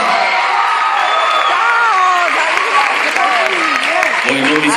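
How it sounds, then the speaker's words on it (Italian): Theatre audience applauding steadily at Teatro Cilea, with loud American-style approving whistles and whoops rising over dense clapping throughout, close and continuous. "I fischi erano all'americana di approvazione"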